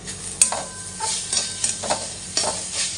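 Carrot halwa being stirred in a pan, a spoon scraping and swishing through the grated carrot in a quick repeated rhythm over a soft sizzle, close and fairly quiet.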